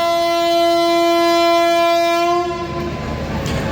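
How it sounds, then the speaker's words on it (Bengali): The Sealdah–New Delhi Rajdhani Express sounds a long, loud, steady horn at Sealdah station's platform 12, then the horn cuts off and the rumble and rattle of the departing coaches carries on close by. "নিউ দিল্লি রাজধানী এক্সপ্রেস ডিপার্চার নিচ্ছে শিয়ালদহ রেলওয়ে স্টেশনের 12 নম্বর প্ল্যাটফর্ম থেকে"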